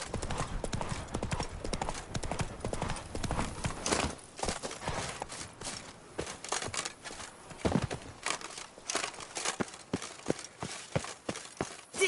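Horse hooves clip-clop steadily in The Witcher 3 while the horse is ridden, a continuous rhythmic run of hoofbeats, some strikes louder than others, over game ambience.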